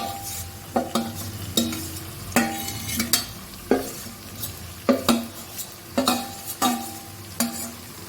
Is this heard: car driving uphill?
no